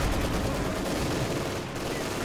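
Dense gunfire in a real-time strategy match set in a war-torn village, continuous rattling volleys and shots close and loud throughout, with no pauses.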